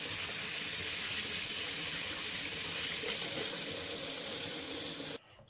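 Tap water runs in a steady, full hiss while turmeric root is washed under it, close and continuous for several seconds before the flow cuts off abruptly.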